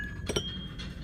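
Milk glass candle holders clink together in a thrift store, making two quick, faint, bright taps over a quiet background hum.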